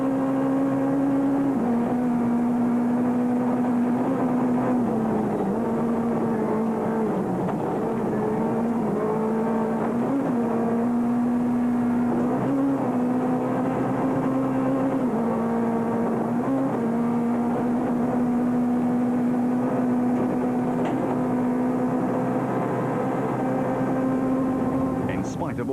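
Onboard a rally car at high speed during the 2006 Osram Rally, the engine holds a loud, steady drone that rises and dips with gear changes throughout, mixed with road and cabin noise.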